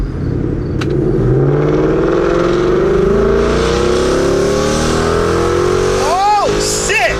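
A 2018 Mustang GT 5.0 fitted with a replacement intake manifold accelerates hard, its V8 engine note rising steadily through the gears in a loud, continuous, close-up roar, with a brief whoop of voices near the end.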